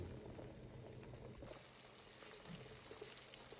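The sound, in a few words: melted butter boiling rapidly while making ghee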